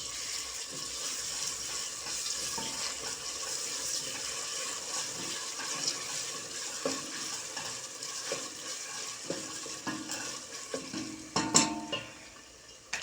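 Pepper paste being stirred and sautéed in a hot pan for a Turkish leek dish with carrots and rice, a steady soft sizzle with scraping spoon strokes throughout, louder clatter near the end.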